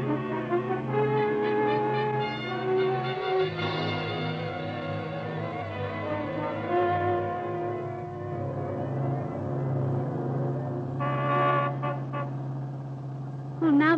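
A car engine drones steadily through a 1940s-style radio drama scene, with sustained horn-like honking tones near the start and a brief toot later, loud and continuous.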